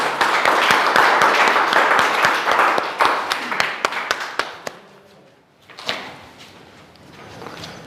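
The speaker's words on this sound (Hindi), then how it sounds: "इनके लिए जोरदार तालियां बजाई जाएं" A crowd of students and staff at a school result celebration claps loudly in a steady, rhythmic burst for a staff member, fading out after about five seconds before a voice resumes talking.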